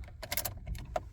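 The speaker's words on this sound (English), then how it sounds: "So here's the key. I'm gonna put it in the ignition." A car key jangles and scrapes as it is slid into the ignition of a 2005 Ford Focus ST, a few quiet, close metallic clicks and rattles over about a second.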